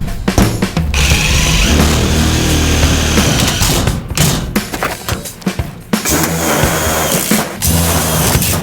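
A power driver sends screws through old sign plates into an IBC tote being made into a farm hay feeder, a loud close whirring that runs in bursts with short stops and knocks between.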